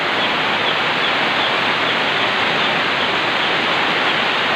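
A heavy downpour roars evenly and close, a thick constant wash of rainfall that never lets up, with no one speaking.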